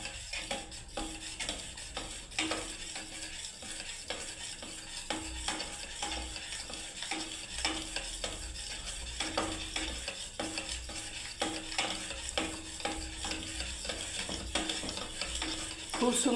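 Besan halwa being stirred constantly in a pan, with a steady scraping rhythm of the spoon over a gentle sizzle and occasional metal clinks, close and without talk.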